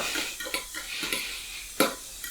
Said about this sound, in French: je vais rajouter ça de gruyère et je remélange